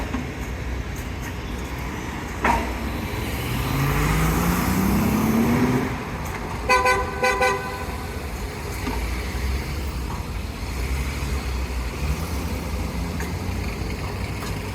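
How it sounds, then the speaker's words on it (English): A roadway tow truck lifting a car in busy Brickell, Miami traffic, its engine rising in a whining climb amid a steady rumble of passing vehicles and a few clanking knocks. "This roadway truck just drove by, lifted up that car"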